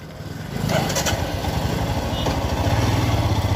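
A Royal Enfield motorcycle engine runs steadily, with a low throbbing idle and a slight rise in revs early on, loud and close, with no voices over it.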